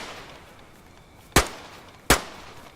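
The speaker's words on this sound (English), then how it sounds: "Here's the point at which the weapon is actually fired" Two sharp Winchester rifle shots in the video game DayZ crack out about three quarters of a second apart, loud and abrupt over quiet background hiss, each with a brief decaying tail.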